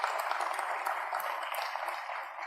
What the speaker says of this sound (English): How about a round of applause for those organizations?